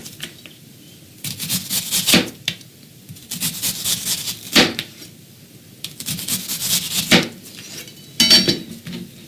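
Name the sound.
slicing onions for garnish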